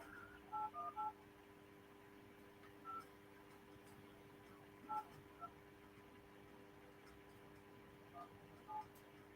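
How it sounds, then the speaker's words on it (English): Telephone keypad dialing tones, a quick cluster of beeps followed by several sparse single tones spaced over several seconds, faint against a low steady hum. "Let's make a phone call."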